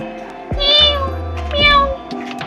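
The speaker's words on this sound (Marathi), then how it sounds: "मांजर आली, मांजर आली," A house cat meows twice in quick succession, each call clear and close, in a home where guests have just arrived.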